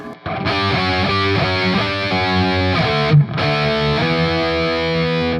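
Heavily distorted electric guitar riff: five quick picked notes ending in a sliding note, then the phrase repeats after a brief gap.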